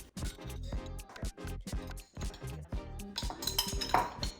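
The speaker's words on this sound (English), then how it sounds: "So now we're gonna take a spoon. We're gonna scoop out some cherries." A metal spoon scooping cherries from a dish while making a Triple Gooberberry Sunrise, with repeated clinks and scrapes against the container, close and fairly quiet, with no talking.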